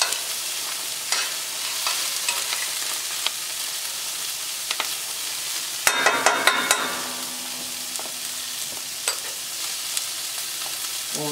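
Shallots sizzling as they sweat and soften in a pan, a constant bright crackle with a burst of louder rattling and stirring partway through, no voices over it.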